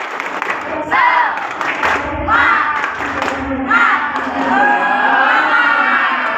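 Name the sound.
students doing a rhythmic spirit clap (tepuk semangat)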